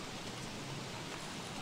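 Rain falls in the Don't Starve video game, a soft continuous hiss of spattering drops, even and unbroken for a moment with no voices.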